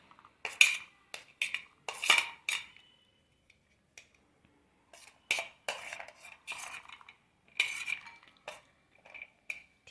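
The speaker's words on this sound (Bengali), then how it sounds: "দেখুন অল্প কিছু রেখে আমরা এগুলো মিশিয়ে দিচ্ছি।" Raisins and plum cake ingredients are stirred in a bowl with a utensil, giving intermittent clinking and scraping strokes in short bursts separated by pauses, close and fairly crisp.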